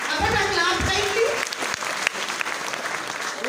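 A graduation crowd claps for a graduate, a dense round of applause with a voice talking over it early on, then steadier clapping with a few sharper claps standing out.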